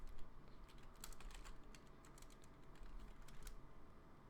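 Typing on a computer keyboard, heard as a loose run of light clicks and clusters of keystrokes over a steady low background hum, fairly close and quiet, with no one speaking.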